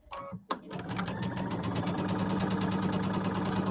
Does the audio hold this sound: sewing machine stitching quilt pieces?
yes